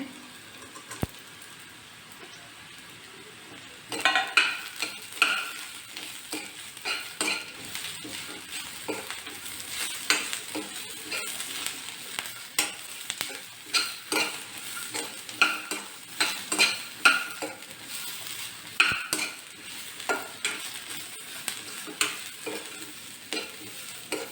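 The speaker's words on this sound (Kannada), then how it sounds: "ಹುರ್ಕೊಳ್ಳೋಣ ಚೆನ್ನಾಗಿ" Large onion and coconut stir-fried in a pan, with a steady low sizzle under repeated sharp scraping and clattering stirs of the spoon against the pan, irregular and close, with no talking.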